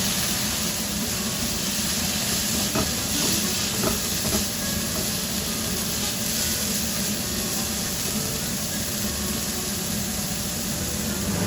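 Rice wine hits a hot pan while vegetarian duck with mushrooms is cooking, giving a steady close hiss and sizzle that carries on evenly with faint crackles.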